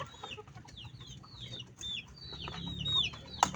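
Pet chickens cluck and chirp at feeding time, a busy mix of short clucks and high peeping calls from several birds nearby, with no talking over them.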